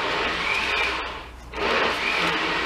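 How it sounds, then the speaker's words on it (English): A blender runs loud and close in two sustained bursts, dipping briefly in the middle before roaring back up, with no voices over it. "And that's the blender."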